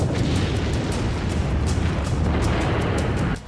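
Explosions from the war in Ukraine roar as a dense, continuous wall of loud rumbling blasts with scattered sharper bursts and no talking.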